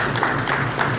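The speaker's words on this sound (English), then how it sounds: "we must give them a round of applause" Brief burst of audience applause at a government event with a minister, dense clapping filling about a second, loud and close, with faint voices mixed in.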